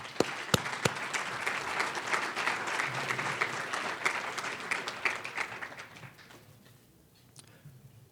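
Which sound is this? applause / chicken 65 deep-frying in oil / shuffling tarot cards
applause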